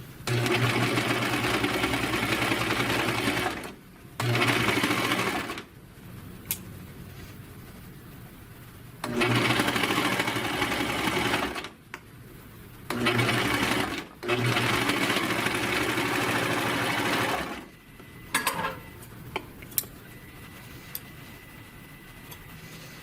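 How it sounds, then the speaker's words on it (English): A 4-thread overlock serger sews down a knit fabric edge in several loud, steady runs of rapid mechanical chatter, separated by brief stops. "And then I'm just going to serge down the edge."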